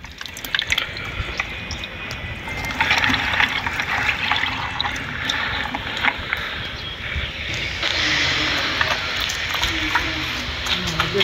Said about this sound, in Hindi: गमले में जो खाद डाला है उसके ऊपर गुड़ का पानी करके